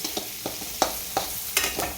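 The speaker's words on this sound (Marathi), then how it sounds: "असं छानपैकी आता परतू देऊ थोडा वेळ आपण हे मिश्रण सगळं" An onion and kurdai mixture is sautéed in a pan, with a soft frying sizzle underneath and a spatula scraping and stirring in short, regular strokes, close by, no speech.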